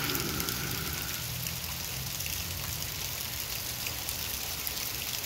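Rain falls steadily on cherry tomato plants outdoors, a soft, even patter of drops that stays faint and constant with no voices.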